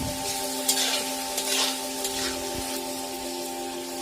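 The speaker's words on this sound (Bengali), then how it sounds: "তো দিয়ে আমি একটু ভালো করে ভেজে নেব যাতে মাংসটা মোটামুটি ভাজা হয়ে যায় এইভাবে" Meat frying in a pan with salt for white pulao, a steady close sizzle under an electrical hum, with a few stirring scrapes and clinks throughout.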